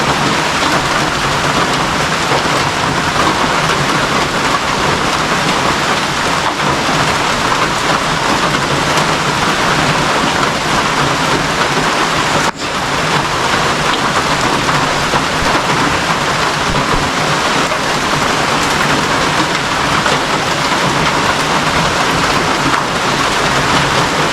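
Heavy rain pours steadily and loudly for the whole stretch, a dense unbroken hiss with no voices, only a brief dip midway.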